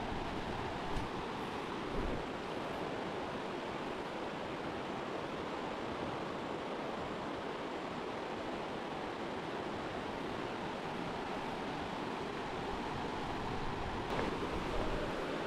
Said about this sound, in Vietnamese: Ở cái khu vực này nước chảy xiết ghê luôn.